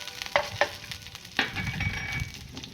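Cubes of paneer fry and get stirred in a hot pan, with a continuous sizzle broken by a few sharp scraping clicks from the spatula, heard up close and alone.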